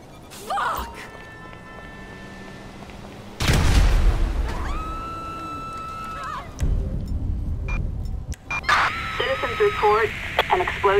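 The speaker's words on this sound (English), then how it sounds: "Report an explosion on Rockford Drive in Rockford Hill." A deep boom bursts out partway through, followed by a rumbling blast, with sirens and game sounds layered around it, from an explosion in Grand Theft Auto V.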